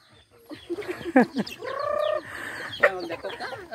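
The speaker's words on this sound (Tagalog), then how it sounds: "Daghanang manok eh." Chickens cluck and squawk close by, with one drawn-out rising call in the middle and scattered sharp clucks around it.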